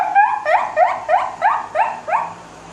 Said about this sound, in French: je crois que c'est un chien